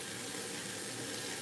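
Water runs steadily from a kitchen tap while a chicken Marsala dinner is being cooked, a continuous close rushing hiss that lasts the whole moment with no voices.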